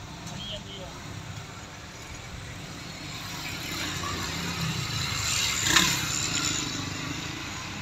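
A motorcycle engine runs nearby as two riders set off, a steady mechanical drone that swells slightly toward the middle over general outdoor background noise.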